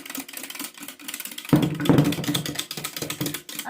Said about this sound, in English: You're going to whisk it up